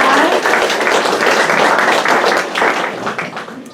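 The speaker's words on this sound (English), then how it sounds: "we'll give our cake pop lady a good round of applause" At a senior sports banquet, the audience gives a loud round of applause. Steady, dense clapping holds for several seconds and then thins out toward the end.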